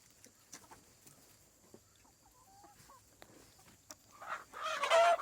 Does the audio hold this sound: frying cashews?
no